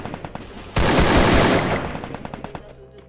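A burst of rapid automatic gunfire rings out loudly in a video game, followed by scattered lighter shots fading out in the game soundscape.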